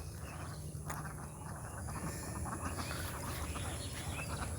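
Faint, distant duck quacks rise from a wetland beel over a steady bed of crickets, insects and frogs.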